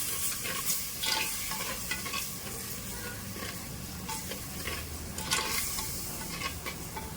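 Egg biryani masala with curd frying in a clay pot over a wood-fired stove gives a steady close sizzle, with repeated scraping stir strokes rising now and then above the bubbling.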